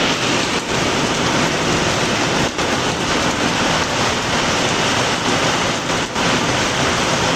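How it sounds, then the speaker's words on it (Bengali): Heavy rain pours onto a rooftop terrace where water is pooling, a loud, dense, unbroken roar filling the whole stretch with no voices. "দেখতে পাচ্ছ কত জোরে জোরে বৃষ্টিটা হচ্ছে"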